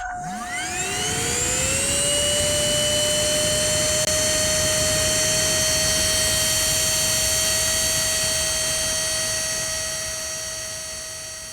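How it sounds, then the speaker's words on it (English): An Oraimo Ultracleaner H2 handheld vacuum cleaner with brush and crevice attachment spins up and runs with a loud, steady high whine and airy rush as it sucks up mess, close by and unbroken, with no talking. "test out the suction with the brush and the crevice attachment attached to the machine"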